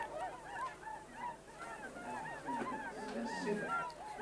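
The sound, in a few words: wild swans calling at Slimbridge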